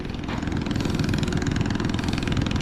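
A motorcycle engine runs as the bike is ridden onto a boat at a river crossing in Si Phan Don, Laos, giving a steady, loud, rumbling drone that continues throughout at close range.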